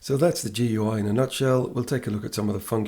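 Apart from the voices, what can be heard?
No everyday noises stand out.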